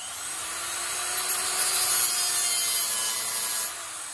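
A drill bores out bolts on a 1952 GM PD4103 bus, a steady high-pitched grinding whir that swells slightly midway and then tapers off, up close, with no talking.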